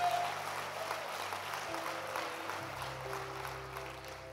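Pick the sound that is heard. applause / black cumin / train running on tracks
applause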